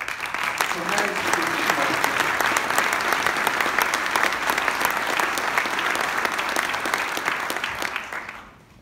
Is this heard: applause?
yes